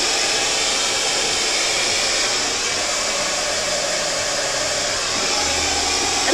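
A hair dryer fitted with a nozzle blow-dries hair in a styling session, giving a loud, continuous rushing airflow that holds steady with no breaks throughout.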